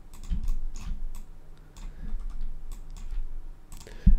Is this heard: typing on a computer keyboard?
yes